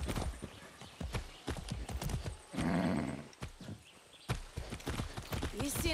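Horse hooves clop in a quick, steady rhythm on a hard surface in the video game Far Cry 6, close by, with a brief whinny partway through.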